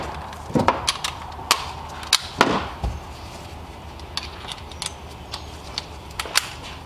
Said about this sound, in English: So we'll go ahead and get those screws in here.